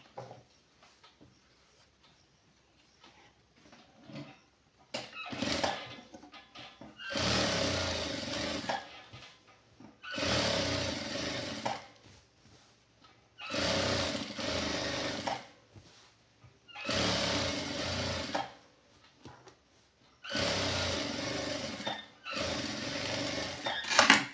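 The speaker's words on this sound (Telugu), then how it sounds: "దీని మీద మనం ఒక కుట్టు వేసుకుందాం పై నుంచి" Sewing machine stitching a seam on a khaddar silk shirt shoulder, running in five loud, steady bursts of several seconds each with short quiet pauses between.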